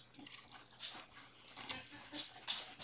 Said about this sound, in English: And the dog just fell off the couch.